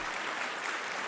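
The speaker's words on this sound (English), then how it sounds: "Let's gotta give him a round of applause" A short burst of steady applause from a crowd, even and continuous, heard at moderate distance.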